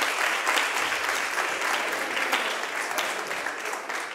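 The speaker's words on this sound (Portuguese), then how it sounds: "Vamos dar uma salva de palmas para ele?" An audience at a church service claps steadily together, a dense, loud wash of applause filling the room from start to finish.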